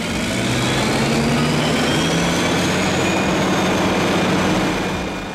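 A Claas Jaguar 980 forage harvester with an 890 hp engine works a Bavarian corn field during the maize harvest, giving a loud, steady, unbroken mechanical roar with no voices.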